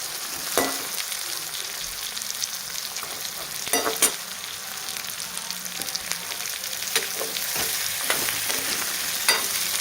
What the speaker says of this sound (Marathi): हे पण आपल्याला तेलामध्ये छान परतून घ्यायचे